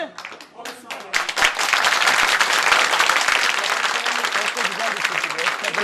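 Loud applause from a crowd, dense clapping that swells after a brief start and holds steady throughout.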